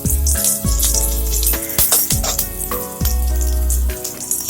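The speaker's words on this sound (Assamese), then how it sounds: "জলকীয়া দিলে অকণমান ফুটি পৰে, সাৱধান হ'ব নিজে।" Jolokia chili hitting hot oil while cooking Assamese khar, giving a loud, steady sizzling and spattering with recurring bursts and crackles, close up with no voices.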